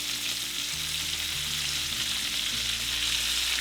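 Cabbage frying with chicken and bacon in a stir-fry, a steady close sizzle running unbroken, with low hum tones shifting underneath and no talk.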